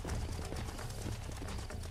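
Horse hooves clip-clop in the Western video game Red Dead Redemption, a quick, faint, steady patter against a dense wash of ambient game sound.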